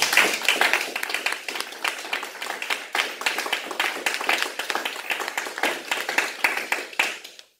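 A church congregation claps to acclaim Jesus during a worship service, with fast, dense, rhythmic clapping from many hands that holds steady and loud for several seconds, then stops abruptly.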